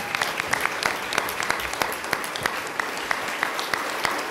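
Audience applause for a state representative at a diversity-in-the-media event, steady clapping from a crowd in a hall with distinct nearby claps popping out over the dense wash, sustained and even.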